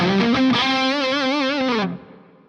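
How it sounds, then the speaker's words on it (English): Distorted electric guitar through an Axe-Fx III holds a sustained, wavering chord that stops abruptly, leaving a London plate reverb tail fading out for about half a second. "There's a London plate reverb."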